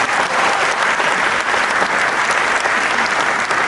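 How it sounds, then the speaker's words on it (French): A crowd at a French event about African diasporas breaks into loud, sustained applause, the thick wash of clapping continuing evenly throughout with no talk over it. "On peut l'applaudir bien fort."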